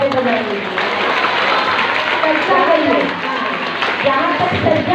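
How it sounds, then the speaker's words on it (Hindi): Loud, dense clapping from an audience at a school drama performance, rewarding the children of class 7E for their stage decoration, sustained and even for several seconds with crowd noise mixed in. "7E के बच्चों के लिए जोरदार ताली पहले बजाएंगे"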